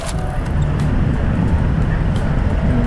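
Dense vehicle traffic on EDSA gives a constant loud roadway roar with rumbling engines and scattered clanks, and nobody speaks.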